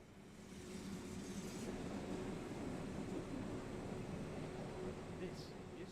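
An ÖBB 1020 electric locomotive runs on the Mittenwaldbahn in Train Sim World 5, giving a steady, broad rumble and rolling hum that holds even throughout, with faint speech in the background.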